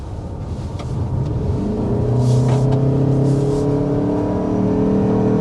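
A 2025 Mazda CX-50 Hybrid pushed hard through a corner, its engine droning and building in a steady, close rumble that swells and holds as the SUV accelerates.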